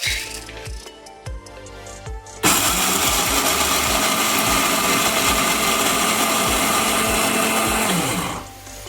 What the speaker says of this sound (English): I've grinded the first set of my groundnut.